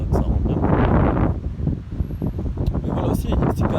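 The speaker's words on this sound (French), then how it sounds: "j'ai du vent, j'espère que ça rend bien." Strong outdoor wind gusts buffet the microphone in a continuous low roar that rises and falls throughout, with no other clear sounds.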